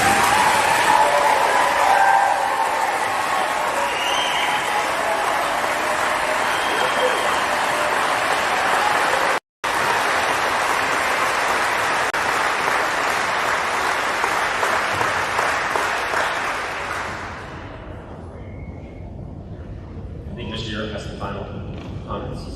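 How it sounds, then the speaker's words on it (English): A crowd applauds at an 8th grade promotion ceremony at Shawnee Heights Middle School, a broad sustained roar of clapping that holds for about eighteen seconds before fading out, leaving a few voices. "Go ahead and clap."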